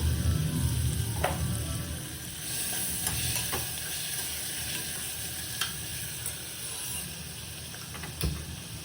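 Onion and potato pieces sizzle and fry steadily in a hot pan, a continuous close hiss with occasional soft stirring scrapes and taps, no talking.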